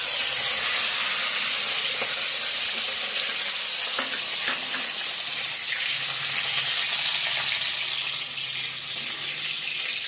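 Whole cinnamon and garam masala spices sizzle steadily and loudly in hot oil for chicken pulao. The frying hiss runs unbroken and close, with a few faint clinks of a spoon stirring the pan.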